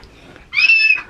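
A cat lets out one clear, close meow, rising then drawn out and falling off, in an otherwise quiet room with a faint thump at the end.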